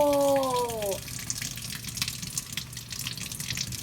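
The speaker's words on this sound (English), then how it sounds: "Now we will rinse the eggs off and see if the color stays on." Running tap water gushes steadily over dyed Easter eggs being rinsed in a sink, a broad continuous splashing hiss that carries on throughout, with a brief tonal squeal at the start.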